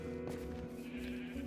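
Sheep bleat in the video game Minecraft, a single nasal, wavering call held for over a second, clear and close.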